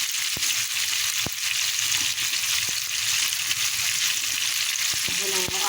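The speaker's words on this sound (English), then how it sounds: "So there goes my fish frying, and they're browning perfectly." Thick cornmeal-coated fish slices frying in a pan, a steady loud sizzle with occasional sharp pops and crackles throughout.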